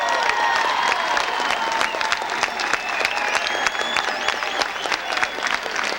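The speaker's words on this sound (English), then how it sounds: "Feel the elation of the crowd." A large crowd applauds and cheers, steady dense clapping carrying over rising whistles and shouts of jubilation that sound fairly close and loud.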